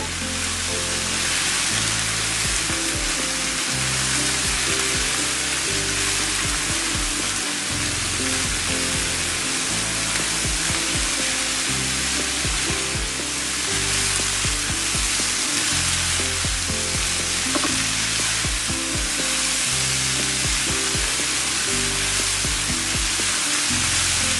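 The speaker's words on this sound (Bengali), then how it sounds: "আমি আর দু এক মিনিট এটাকে ভাজবো" Mixed vegetables fry in a pan, Chinese restaurant style and seasoned with white pepper, giving a steady, loud sizzle with scattered stirring clicks throughout and no talking.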